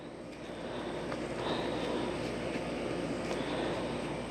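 Kawasaki ZX10R Gen 6 sport motorcycle with a Sloth Performance flash, riding down a street; a steady, broadband engine and wind roar holds at a fairly constant level throughout, close to the rider.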